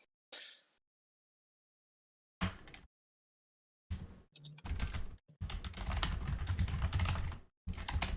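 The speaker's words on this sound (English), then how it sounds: "Oh, good typing." Computer keyboard typing comes in separate bursts of quick clattering keystrokes with pauses between, fairly close and with no talking.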